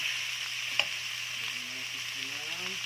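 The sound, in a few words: beef being sautéed in a pot for puchero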